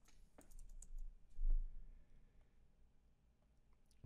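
Computer keyboard typing, a few faint scattered key clicks close by in a quiet room, sparse and irregular rather than a steady run.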